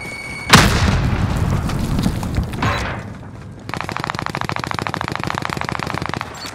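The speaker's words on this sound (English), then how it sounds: "Throwing frag." A frag grenade blast in Call of Duty Modern Warfare, a loud sudden boom with a rumbling tail, followed by a fast rattling burst of automatic gunfire.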